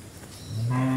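A cow lets out a low, steady moo that swells in over the second half, close and loud against a faint outdoor background.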